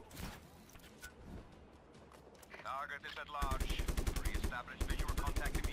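Rapid bursts of machine gun fire ring out in the open-world game Just Cause 3, starting sparse and building into loud, sustained automatic volleys, with someone talking in Turkish around them.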